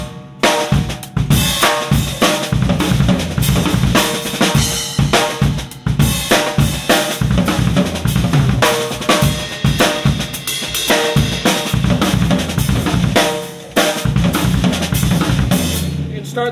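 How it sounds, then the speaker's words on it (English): A drum kit loops a hand-and-foot pattern, right hand on the snare or floor tom alternating with bass drum kicks, then closes with a six-stroke roll before starting over. The playing is loud, dense and continuous, with no talking. "So putting a 6-stroke roll at the end sounds like this."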